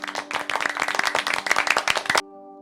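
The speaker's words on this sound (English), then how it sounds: "Then all applaud." A small group of people claps by hand, a loud, brisk patter of individual claps for about two seconds that stops abruptly and leaves a faint steady tone.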